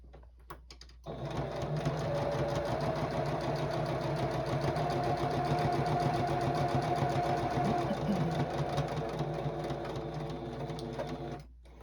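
A sewing machine runs steadily for about ten seconds while stitching a star-pattern quilted tabletopper, a continuous mechanical whir with a fast, even needle rhythm, close and moderately loud, starting and stopping abruptly.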